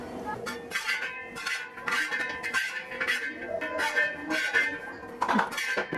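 A metal spoon scrapes and clinks against a hot bronze uruli while fried cashew nuts are scooped out, giving repeated close metallic scrapes and taps over a steady sizzle.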